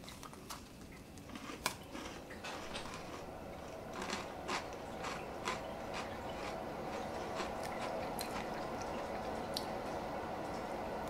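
Close, crisp crunching of a cinnamon oatmeal cookie being chewed, a steady series of small dry cracks and squishes with no talking.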